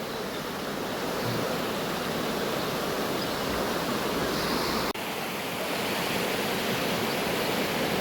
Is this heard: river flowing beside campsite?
yes